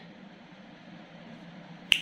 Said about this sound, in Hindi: मैं चुटकी बहुत अच्छी बजाती हूँ